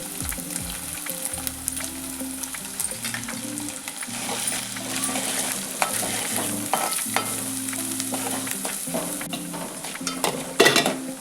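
Onions sizzling with salt in a frying pan for a dondakaya (ivy gourd) fry, a steady close crackle broken by scraping stirs against the pan, with soft background tones and a louder clatter near the end.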